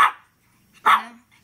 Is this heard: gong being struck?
no